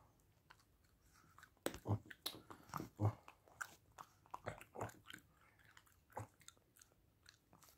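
A Pekingese dog chewing and crunching food up close, irregular wet bites and smacks, quiet overall with no talking.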